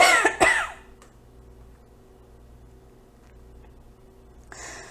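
A burst of harsh coughing up close in the first half-second, then near silence with faint low hum, and a soft rustle at the end.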